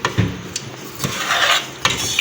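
Boiled macaroni stirred in a pot, a few distinct knocks and scrapes of a utensil against the pot spaced through a soft stirring rustle, close and moderately quiet.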